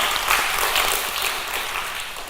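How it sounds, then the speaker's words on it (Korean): Church congregation applauding during a Korean Sunday worship service, dense steady clapping from many hands filling the room, continuous and fairly loud throughout. "다시 한번 박수하시겠습니다"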